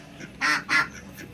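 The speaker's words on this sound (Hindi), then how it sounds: "डक्स" Two loud, close duck quacks in quick succession, with a softer call trailing after them at a village duck pen.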